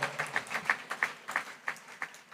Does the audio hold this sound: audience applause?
yes